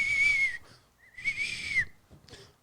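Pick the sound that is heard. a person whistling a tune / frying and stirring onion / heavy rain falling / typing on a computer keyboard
a person whistling a tune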